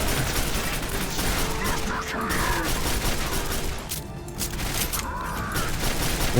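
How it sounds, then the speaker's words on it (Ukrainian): Rockets and heavy gunfire pound the player in the shooter game Quake 4, a dense, continuous barrage of loud blasts and mechanical clatter filling the scene without pause. "Стріляють по мені ракетами називається."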